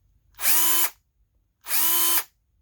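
A Bosch 12V cordless screwdriver runs in first gear, giving two separate short whirring bursts of steady motor tone, each about half a second long, close up and loud with no talking.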